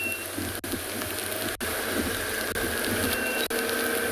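Summer rain falls steadily during a morning safari drive at Djuma in South Africa, giving a dense, even hiss that is interrupted by a few brief dropouts, with no voices.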